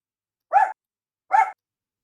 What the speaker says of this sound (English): The mammoth is barking at you.